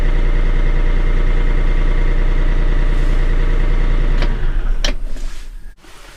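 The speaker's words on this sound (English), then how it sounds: "And now with my tractor, when it's cold out, you can see that it upped the RPMs there to about 1200." A Bobcat tractor's diesel engine runs at a raised cold idle of about 1200 RPM, a steady close rumble, then a few knocks and clunks as it fades near the end.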